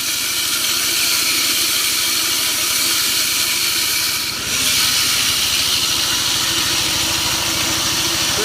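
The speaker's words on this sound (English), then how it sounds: "I don't think I hear any more grinding of grit between reel and bed knife" A reel mower runs steadily while being backlapped, with the reel turning against the bed knife. It makes a loud, continuous mechanical whir and a steady rasping hiss, dipping briefly midway before resuming at the same level.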